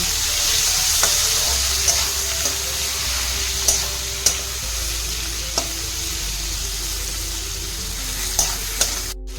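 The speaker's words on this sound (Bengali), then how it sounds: "এবার এতে দিয়ে দেবো আমি টমেটো কুচি। দিয়ে আরেকটু হালকা আমি নেড়ে নেব।" Chopped tomato stirred into softened onions in a hot pan for a Bengali rohu fish curry, a steady sizzle of frying with occasional clicks of a spoon against the pan, close and continuous.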